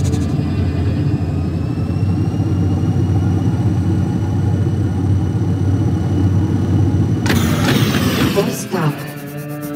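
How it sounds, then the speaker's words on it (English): Steady loud engine drone of a spaceship at full throttle in the space game Rebel Galaxy, a continuous low hum lasting about eight seconds before a burst of electronic noise near the end. "Engines at maximum."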